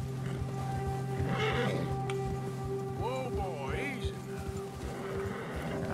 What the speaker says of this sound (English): Uh-oh, the bear spooked my horse.